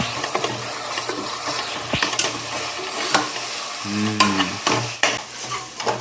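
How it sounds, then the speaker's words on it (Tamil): Chicken biryani being stirred and fried in a sizzling pot at a village home kitchen, with a steady close sizzle, scraping stir strokes and a few metallic pot clanks, no talking. "அப்படியே ஒரு கிளறிடுவோம்"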